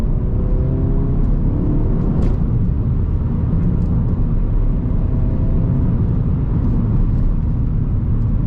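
An APR Stage 1 tuned VW Golf GTI Mk7.5 engine pulls under light throttle, a steady loud droning rumble with a rising harmonic whine from inside the car, continuous with no talking.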